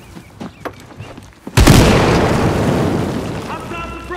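A frag grenade explodes in a video game battle, one loud close boom after some light footsteps and clatter, followed by a long rumbling decay with debris.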